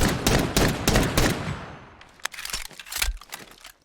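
Desert Eagle pistol fire in Fallout 4 with a weapon mod, a rapid run of loud sharp shots followed by quieter metallic clicks and clunks of a reload, no speech.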